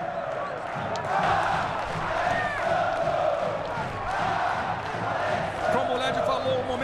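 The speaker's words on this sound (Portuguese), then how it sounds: "A torcida está gritando o nome do Alexandre." A football crowd at a Vasco versus Aurora Copa Sudamericana match chants a player's name in rhythmic, swelling waves, with a commentator talking over the stadium noise.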